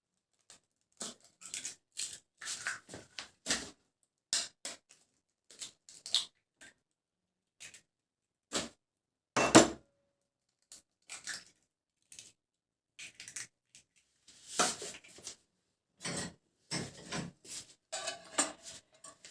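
Three eggs are cracked into a bowl in a home kitchen for a quick microwave cake, heard as scattered close taps, clicks and clinks of shell and bowl separated by quiet pauses.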